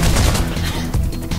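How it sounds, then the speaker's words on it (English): Gunfire strikes the player during a Mirror's Edge chase, a dense, loud burst of rapid shots and impacts filling the short moment without any speech. "Ow! I just got shot."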